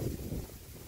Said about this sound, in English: Because of its strong wind, it's too windy.